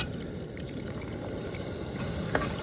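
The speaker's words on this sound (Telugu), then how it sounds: "ఇంక కొన్ని వాటర్ పోస్తున్నాం" Water pours in a steady, continuous rush, a short unbroken stream of splashing liquid at close range, while cooking chicken outdoors in a village.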